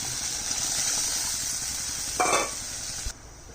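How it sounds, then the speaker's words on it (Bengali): Water poured into a pan of frying cashew and poppy seed paste for a pabda fish curry: a steady loud hiss and sizzle, a brief sharper burst near the end, then the sound abruptly drops away. "এবার জল দিয়ে দিচ্ছি।"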